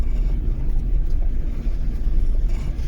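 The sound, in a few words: car driving through a campsite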